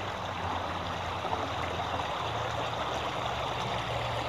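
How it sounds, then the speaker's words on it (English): Water flows steadily in a park stream, a continuous broadband rush and gurgle that stays even and close throughout, with no voices. "this place is really relaxing to be because of the water flowing"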